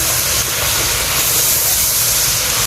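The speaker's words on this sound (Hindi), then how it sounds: "इसको तकरीबन 5 मिनट के लिए फिर से फ्राई करेंगे लहसुन अदरक के साथ" Chicken fries in a karahi with garlic ginger paste and salt, giving a loud, continuous close-up sizzle and hiss that stays steady throughout without any voices.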